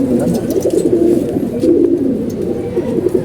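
Pigeons coo in a loft, low rounded calls repeating close by in a steady murmur throughout, with several birds overlapping.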